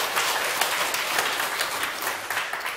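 Audience applause at a Korean lecture hall session, dense steady clapping from many hands throughout, fairly loud and continuous with no voices over it.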